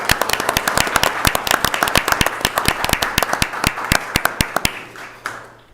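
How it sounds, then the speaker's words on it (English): Applause for an Eagle Scout and his family at a city council meeting: a steady run of close, sharp hand claps from a modest crowd, thinning out and stopping near the end. "Give them a round of applause."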